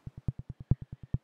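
Synthetic hi-hat from a software instrument: eleven short, crisp electronic ticks in a steady quick rhythm, a few accented louder, each dry and clipped with nothing else around them.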